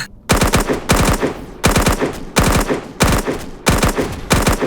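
Sniper gunfire in the survival game Dysterra, rendered as repeated rapid bursts of close, loud shots in a steady rhythm, about seven volleys separated by brief gaps.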